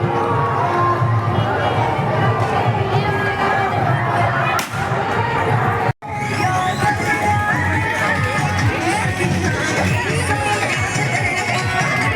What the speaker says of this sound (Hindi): अठमुआन छठ घाट के भीड़ आप देख सकते हैं।